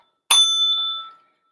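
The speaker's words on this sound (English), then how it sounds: "It's got a ding ding bell in it." A ding bell built into an I Spy Eagle Eye children's toy rings once: a sharp, clear metallic strike that rings on for about a second before fading to silence.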